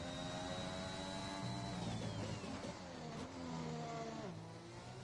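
A Red Bull Formula 1 car in the video game F1 2021 screams at a steady high pitch on a flying lap at Portugal. Pitch drops and climbs again with each gear change, sustained and loud with no talk.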